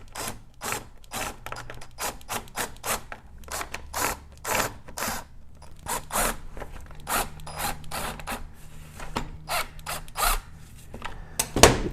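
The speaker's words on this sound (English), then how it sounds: "one at a time, I'm going to put my screws on my driver and stick them up in there." A screwdriver starts small screws one at a time into the pull-start housing of a Stihl grass trimmer, giving a steady run of close, quiet clicks and scrapes with no talking.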